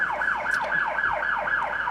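A loud, close emergency vehicle siren sweeps up and down in a fast repeating whoop, about five cycles in two seconds, with nothing else over it.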